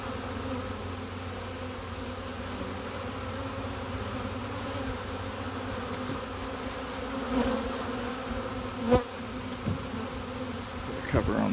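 Honeybees from overwintered nucs buzz steadily nearby in a constant drone. A few louder passes fly close to the listener, with faint handling knocks and no speech.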